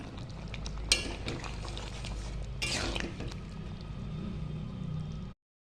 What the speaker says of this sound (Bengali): আমি গরম মশলার গুঁড়ো দিয়ে নাড়াচাড়া করে নামিয়ে নেব